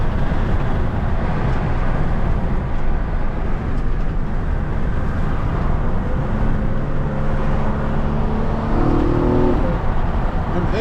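Car engine revving through an aftermarket intake on an Infiniti G37, a loud, close, sustained roar that rises and swells in pitch over about ten seconds with no talk.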